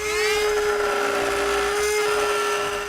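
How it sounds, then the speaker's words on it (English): A rotary tool fitted with a cutting bit cuts through a 2013 Ford Taurus body panel, giving a loud, steady, close high-pitched whine that holds throughout. "Now using a rotary tool with a cutting bit, I'm going to cut out this section that I just drew out."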